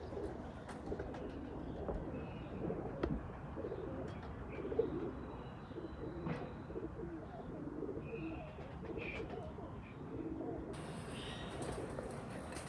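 High-class breeder pigeons coo steadily in a rooftop loft, a dense, low murmur of overlapping calls with occasional faint chirps, continuous throughout.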